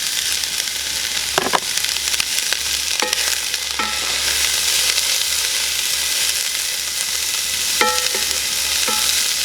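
Two medium to large onions sauté in a pan, producing a continuous close sizzle with a few sharp scrapes and clicks of stirring, no voices.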